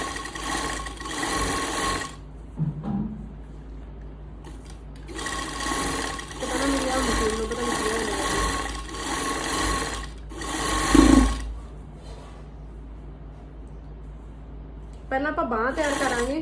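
A sewing machine runs in several bursts stitching a seam on a kurti, a loud close mechanical whir of a few seconds each, separated by pauses, with someone speaking between and over the runs.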